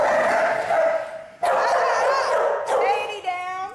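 Small dog barking and yipping at a dog park, several sharp barks and higher whimpering yips close by, with people talking over and around them.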